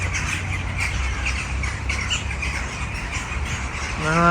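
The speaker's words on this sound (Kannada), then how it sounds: "ಪಕ್ಷಿ ಎಲ್ಲ ಇದು" Birds squawking in a city central park in Russia, a dense chorus of harsh calls over a steady outdoor background hum, moderately loud and continuous, no talking.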